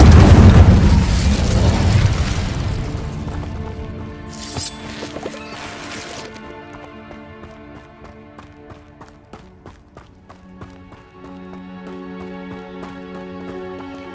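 An Incendio fire spell bursts in Hogwarts Legacy, a loud booming blast with a fiery roar that fades into quieter game music and scattered effects.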